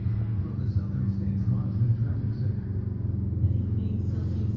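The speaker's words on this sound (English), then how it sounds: "I'm sorry if you guys hear a lawnmower in the background." Lawnmower engine droning steadily in the background, a low continuous rumble at moderate distance that holds throughout without pauses.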